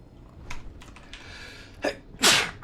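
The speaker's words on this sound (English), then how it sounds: "I might sneeze." A single close sneeze bursts out sharply after soft breathing and light keyboard clicks in a quiet room.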